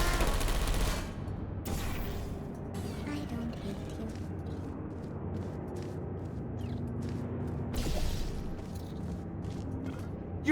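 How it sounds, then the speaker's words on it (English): Gunfire in the video game Portal 2, a rattling burst of rapid shots with booming impacts over steady game ambience, moderately loud throughout and strongest at the start and near the eight-second mark. "I heard gunfire. It's a bit late, this, but look out for gunfire."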